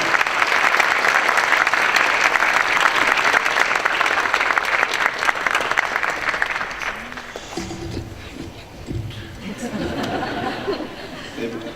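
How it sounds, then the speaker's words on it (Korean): A crowd at a school graduation ceremony applauds loudly and steadily for about seven seconds, then the clapping dies away into murmuring chatter and a few voices. "이어서 오세빈 학생 큰 박수로 맞아주시기 바랍니다"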